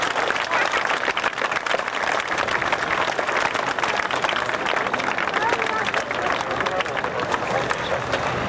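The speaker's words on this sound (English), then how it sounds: "Ladies and gentlemen, give them a big round of applause." Spectators at the RAF Valley Air Show on Anglesey in 1991 applaud after a parachute team lands, sustained outdoor clapping and crowd noise, with an announcer speaking over it.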